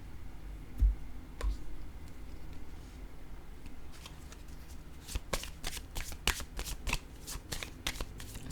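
Tarot cards shuffled by hand, a soft steady rustle that turns into a rapid run of crisp riffling clicks near the end, close and without talk.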